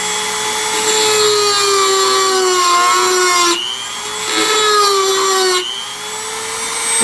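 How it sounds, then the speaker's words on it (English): A Dremel rotary tool grinds a concave into a small metal part for a Majestic Arms Speed Strip kit. The loud, steady high-pitched whine dips in pitch under load, eases off briefly twice and then resumes, with no talk over it. "I'm going to use my trusty Dremel tool."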